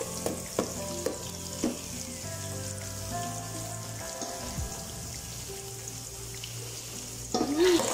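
Garlic sizzling and frying in a pan while being prepared for a ground-meat dish, with a steady broadband crackle, a few sharp clinks of the utensil, and faint stirring, close and fairly loud, with no talk.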